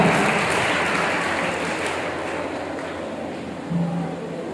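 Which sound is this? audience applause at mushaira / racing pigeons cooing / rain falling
audience applause at mushaira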